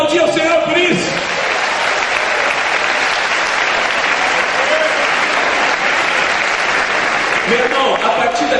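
A church congregation breaks into loud, sustained applause filling the room, with a few voices rising briefly at the start and end.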